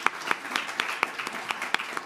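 Audience applause at a concert lecture during a music festival, a small group clapping in a steady rhythm, moderately close and unaccompanied by talk.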